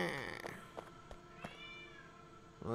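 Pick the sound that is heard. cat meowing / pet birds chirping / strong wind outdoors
cat meowing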